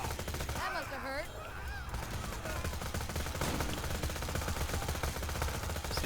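Dense, continuous bandit SMG fire in Borderlands 2 rattles on in fast bursts throughout, with honking, warbling game sounds near the start.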